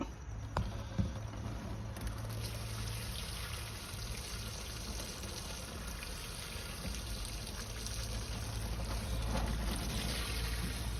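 Fuel drains from the rust-filled tank of a Suzuki SV650 motorcycle, giving a steady trickling, splashing stream that runs continuously at close range with no talking.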